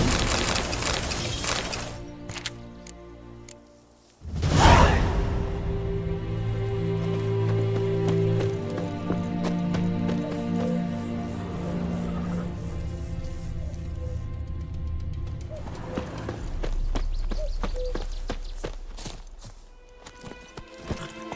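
A horse in The Witcher 3 gallops with rhythmic hoof clip-clops, broken up by a sharp louder burst early on and layered game music and ambience that rise and fall across the stretch.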